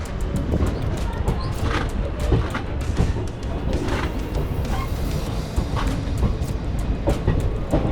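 An express train from Kayamkulam, the Guruvayur–Chennai Egmore Express, rolls into Madurai station, heard from on board as a steady low rumble with scattered clanks and wheel knocks over the rails, loud and continuous.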